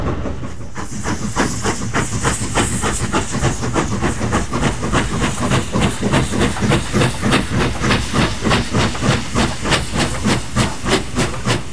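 Steam locomotive on a railway in China hisses loudly over a fast, regular train of sharp chuffs or clacks that repeat steadily throughout, close by and with no voices.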